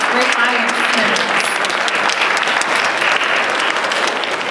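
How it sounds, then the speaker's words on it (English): Audience applause for students on stage at a high school poetry recitation semifinal, steady and fairly loud clapping from a crowd that continues throughout without letup. "A round of applause again to the students on stage and you as great audience members"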